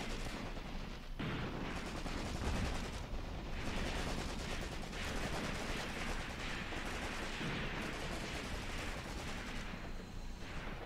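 Sustained gunfire from a World War II tactical battle in the video game Graviteam Tactics, a dense continuous roar of rifle and machine-gun bursts with artillery-like booms, loud and unbroken for the whole stretch.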